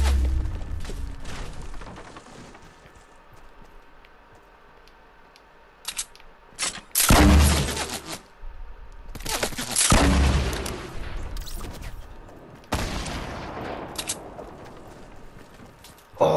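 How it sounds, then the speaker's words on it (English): SMG gunfire in Fortnite, heard as several separate rapid bursts of sharp cracks with quieter stretches of clicking and game noise between them. "Oh, the SMG!"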